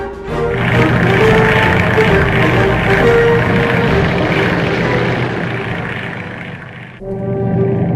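A loud, droning propeller airplane engine in the video game Crimson Skies: High Road to Revenge hums steadily, then briefly dips and cuts back in near the end.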